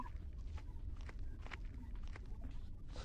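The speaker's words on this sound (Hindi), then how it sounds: "मेरे पैरों की आवाज है" Footsteps in the Granny horror video game, a steady run of soft game-audio steps over a constant low hum, fairly quiet and close.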